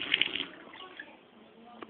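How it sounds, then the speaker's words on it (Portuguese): Water splashing onto a mobile phone during a family lunch at home, a brief close wet burst at the start fading into softer trickling. "Jogou bem água no seu celular"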